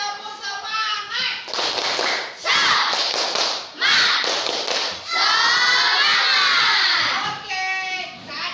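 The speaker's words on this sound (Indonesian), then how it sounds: "Kita tepuk semangat dulu, tepuk semangat." Indonesian schoolchildren in a classroom perform a spirit clap chant, clapping loudly in rhythmic bursts while their voices chant together between and over the claps.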